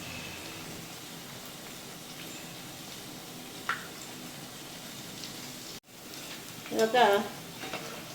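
Gobi kabab, battered cauliflower pieces, fries in hot oil with a faint, steady sizzle. A brief stirring clatter comes near the end, and a single short spoken word is heard.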